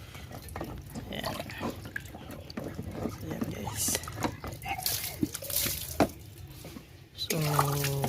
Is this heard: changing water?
yes